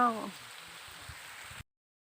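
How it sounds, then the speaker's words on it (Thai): Steady rain hisses down in a close, even wash, with a brief voice at the very start before the sound cuts out abruptly. "ตอนนี้ฝนตกลงมาละ"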